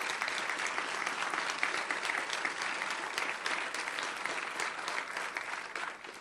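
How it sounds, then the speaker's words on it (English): Audience applause at a mayor's State of the Balboa Park address, a dense, steady wash of clapping from a large crowd that holds for about six seconds, loud and continuous before easing slightly at the end. "let's give these folks an enormous round of applause"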